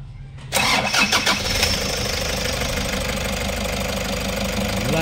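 A Toyota Hiace 3.0 engine, just cleared of a fuel injector fault code, cranks briefly and catches, then settles into a steady, loud, close idle with a faint uneven knock.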